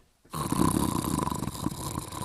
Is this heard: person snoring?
yes